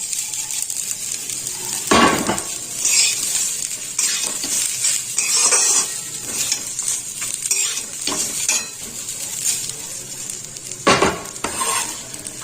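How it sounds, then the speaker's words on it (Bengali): Dry-roasted oats go a little at a time into a hot pan for oats pulao. A steady sizzle runs under repeated scraping and stirring, with sharp clinks of a utensil against the metal pan and no talking. "এবার আমি এই ড্রাই রোস্ট করা ওটসটা এর মধ্যে অল্প অল্প করে দিয়ে দেবো"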